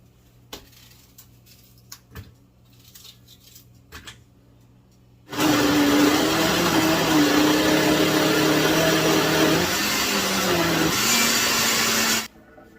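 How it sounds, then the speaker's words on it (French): An electric blender mixes onions for a cassava-leaf and fish dish. After quiet kitchen clatter, a loud, steady motor whir runs for about seven seconds, its pitch dipping slightly as the load changes, then stops abruptly. "Et là maintenant, je vais mixer les oignons."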